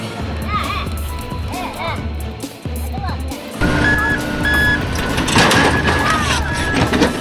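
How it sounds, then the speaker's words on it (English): Truck missing two rear wheels driving around a construction site, a low engine rumble with clanks and mechanical knocks, growing louder and busier midway with a steady tonal beep over narration. "this truck is still cruising smoothly around the construction site"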